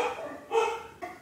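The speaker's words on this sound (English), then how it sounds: "Is there a video that goes by without a dog disturbance?" A dog barks indoors in two short bursts, muffled and moderately far, with a brief gap between them.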